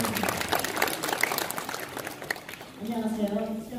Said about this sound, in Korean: 박수로 나와주시겠습니다